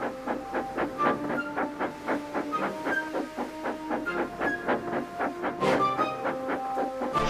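Train rolling along the track with a steady, rapid clickety-clack rhythm, moderately close and unbroken, with one louder hissing burst near the end.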